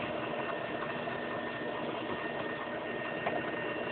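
An electric hand mixer with beaters whirs in a steady, even drone while mixing a gluten-free corn bread casserole batter, running continuously at close range with no voices.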